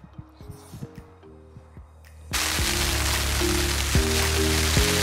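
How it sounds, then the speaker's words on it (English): Hail at a coarse fishing lake starts abruptly partway through and becomes a loud, dense pattering on nearby surfaces, over a steady tonal hum. "The hail is back, with vengeance."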